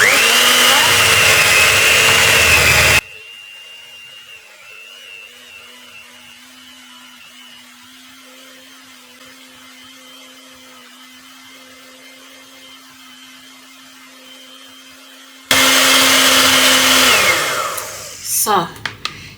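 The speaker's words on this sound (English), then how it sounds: "I need my hand blender to blend everything so that it can give me that nice creamy butter" A loud hand blender whirs briefly through clove and fenugreek hair butter, stops, then runs again with a steady high motor whine, cutting off with a few knocks at the end.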